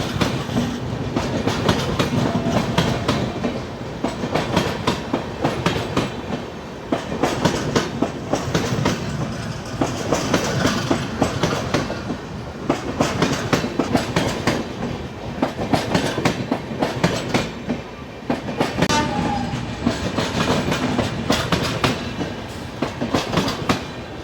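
An Indian DEMU passenger train runs on rails between Jalandhar City and Firozepur Cantt, giving a steady loud rumble with repeated clickety-clack wheel beats over the track joints. No one speaks.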